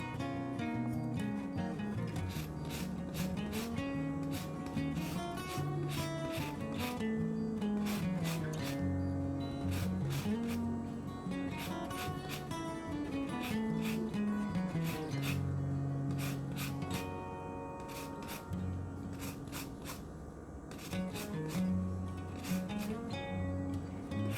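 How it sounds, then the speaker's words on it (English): Orange being zested on a grater for a Runeberg torte, continuous close scraping and rasping strokes throughout, partly under steady background music. "I'm going to add some orange zest"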